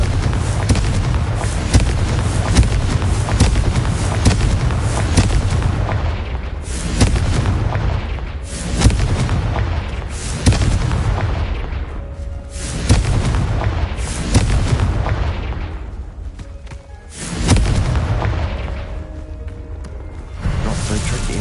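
Repeated Confringo fire-spell blasts in Hogwarts Legacy, a loud, dense barrage of booming explosions every couple of seconds, each with a rumbling tail, filling the whole stretch.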